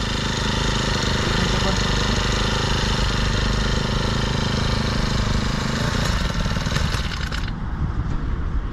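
A Kisanforce weeder machine's small engine runs loud and close with a continuous droning idle, its tone shifting slightly near the end, with faint talk underneath.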